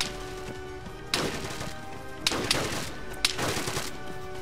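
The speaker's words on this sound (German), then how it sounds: "Schüsse." Gunshots in Arma 3 Epoch PvP gameplay: four sharp, separate cracks about a second apart, the middle two close together, fairly near and loud over a steady low hum.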